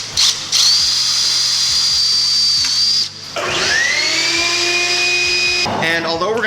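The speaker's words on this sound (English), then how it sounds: "my next drill bit size is going to be a 1/4 inch drill bit" A power drill with a 1/4 inch bit bores holes for rivnuts in a bicycle top tube storage mount, loud whining bursts that spin up, stop briefly and start again, with steady motor tones between pauses.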